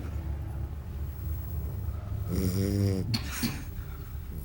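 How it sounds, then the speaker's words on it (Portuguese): One loud, rasping snore from a sleeping person rises midway through a steady low background hum, close by and drawn out, then fades back into quiet. "Roncando."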